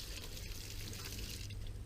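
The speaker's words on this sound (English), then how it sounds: "I'm just going to take this and rinse these rocks out real good" Water poured and swirled over dusty rocks to rinse them, a faint, continuous wash of splashing and trickling.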